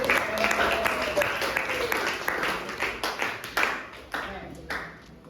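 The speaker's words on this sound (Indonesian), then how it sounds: "Beri tepuk tangan buat kalian semua yang sudah hadir." Students and attendees applaud at the close of an Islamic lesson on the history of the Qur'an's compilation, a burst of clapping that thins to scattered claps, with a voice speaking over it.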